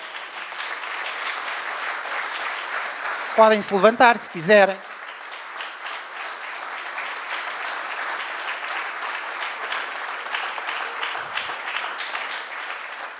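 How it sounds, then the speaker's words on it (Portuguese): Applause from an audience for orchestra musicians, a bassoonist and violinists, at an association anniversary ceremony in Barreiro, rising in a brief burst of clapping amid steady room noise, with a voice speaking before and after. "para quem eu peço uma salva de palmas também"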